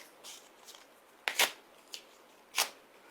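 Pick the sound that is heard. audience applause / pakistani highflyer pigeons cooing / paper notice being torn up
paper notice being torn up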